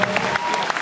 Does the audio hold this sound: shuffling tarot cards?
no